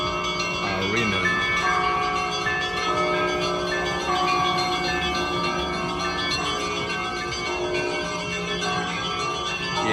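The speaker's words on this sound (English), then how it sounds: "Look at this local church, and the bells right there on the top are ringing." Church bells of a local church in central Moscow ring continuously, layered metallic peals overlapping and sustaining with a dense, resonant shimmer, fairly loud and steady for the whole stretch.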